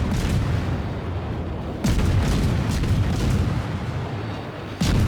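Rapid naval gunfire from the Akizuki destroyer in World of Warships: a dense, continuous roar of booming shots with fresh salvos bursting in every few seconds, loud and unbroken.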